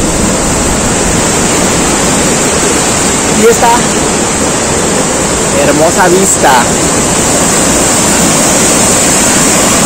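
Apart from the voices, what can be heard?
powerful river flowing below a bridge in Xico, Veracruz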